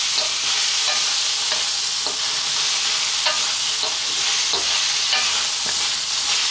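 Beef and onion fry loudly in a pan for Filipino beef adobo, a steady close hiss of sizzling punctuated by regular scraping stirs.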